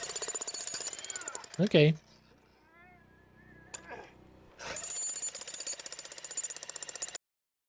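A jackhammer pounds during a ballistics test in rapid, evenly spaced hits, first in a short burst, then again after a quieter gap with a brief spoken word.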